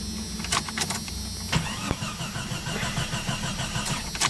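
A Jeep engine with a weak fuel supply cranks repeatedly without catching. The starter whirs close by, with sharp clicks and clunks mixed in, and the engine never fires.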